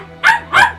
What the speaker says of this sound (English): So we have a new puppy in the house, and she said she wants to be part of the stream